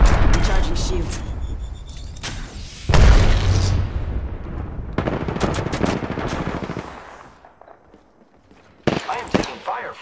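Incoming gunfire in a video game: rapid machine-gun bursts and heavy booms crowd the first half, then fade toward near silence before a last sharp burst, with a voice talking under the shooting.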